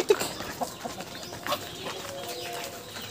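Laying hens clucking on a farm, the hens in poor condition with many feathers missing; soft, scattered clucks and coos come in a loose rhythm, fairly faint against light background noise.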